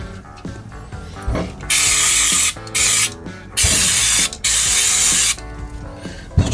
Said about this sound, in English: Just going to spray them off with some brake cleaner to go and try and get any oil and dirt off.